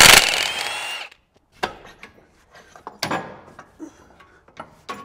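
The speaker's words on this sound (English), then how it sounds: "Next, we'll come up in here and remove these front bolts." Hand tools work on the front driveshaft bolts of a Jeep Gladiator, a short rattle followed by scattered ratchet clicks and metallic taps, close up, with no talking.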